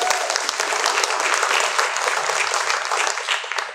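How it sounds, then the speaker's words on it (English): A crowd at an event gives a round of applause, dense continuous clapping held at an even level throughout, fairly close and without speech. "Please give everyone a round of applause"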